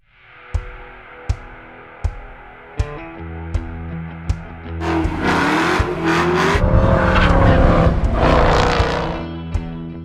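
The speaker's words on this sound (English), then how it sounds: "I just took a drive in the ACR" A Dodge Viper ACR driving, opening with a rhythmic series of sharp clicks over a low idle, then the engine swells into a loud, sustained roar as the car accelerates away, heard up close with no talk.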